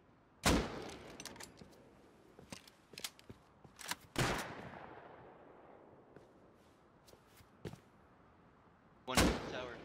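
Gunfire in the survival video game Rust: several loud, sharp, separate shots spaced over ten seconds, some echoing and some fainter and farther off, with short quiet gaps between them.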